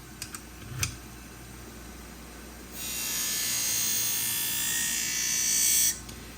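Twice As Sharp machine sharpening a pair of barber shears, a few brief clicks followed by a steady bright grinding whir that runs for about three seconds and then stops.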